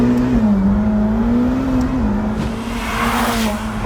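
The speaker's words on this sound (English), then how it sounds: "Twin turbo flat plane Ferrari V8, smoother, quieter, whistles, high under boost." A Ferrari F8 Tributo with a twin-turbo flat-plane V8 pulls hard from inside the cabin, a loud steady engine drone rising slightly in pitch, with turbo whistle and rushing noise over it.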